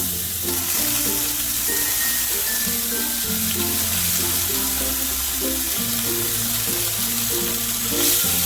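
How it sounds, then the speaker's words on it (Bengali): Continuous frying sizzle as lentils are stirred in a pan for oats khichdi, loud and close with scraping movements throughout. "ডালটাকে দিয়ে একটু নাড়াচাড়া করবো"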